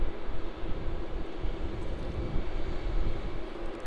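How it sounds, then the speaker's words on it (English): A Rex Boeing 737 at Melbourne Airport sits near runway 16 with its jet engines running, producing a loud, steady low rumble and roar that fluctuates slightly without building up, heard from a distance with no talking. "Just waiting for this Rec 737 to get its takeoff clearance."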